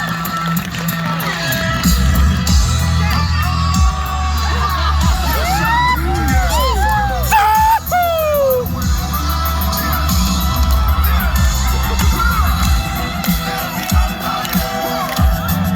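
A crowd at a Samoan heritage celebration in Utah cheers loudly, with whoops, high shouts and a sharp bang over a constant roar of many voices.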